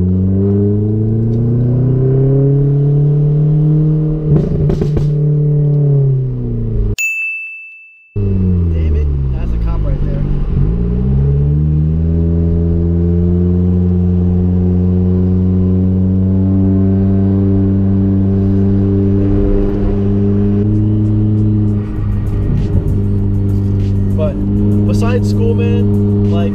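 A car engine revs hard and climbs through the gears again and again, loud and close, with a brief dropout partway through.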